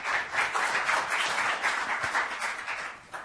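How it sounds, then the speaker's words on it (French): An audience at a storage technology conference applauds the presenters, a steady, moderately distant patter of many hands clapping that holds evenly before easing slightly at the end. "Mais on peut vous applaudir."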